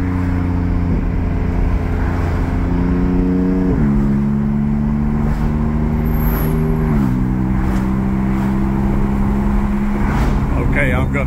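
A Porsche 718 Cayman GT4 in Racing Yellow with an aftermarket exhaust revs loudly from inside the cabin while driving, its engine note rising and falling in steps through several gear changes.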